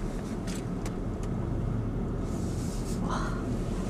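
Inside a BMW iX M60 electric SUV as it pulls away, there is only a quiet, steady road and tyre rumble with no engine note, plus a few faint cabin clicks.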